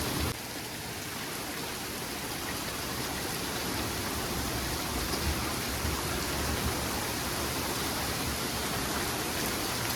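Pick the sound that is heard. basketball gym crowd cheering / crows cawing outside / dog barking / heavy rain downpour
heavy rain downpour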